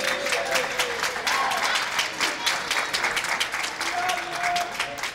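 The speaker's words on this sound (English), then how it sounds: "You hear the round of applause for Tracy Davis, who is exiting the building" Crowd applauding at a four-wall handball match, a continuous spread of clapping from the gallery with a commentator talking over it.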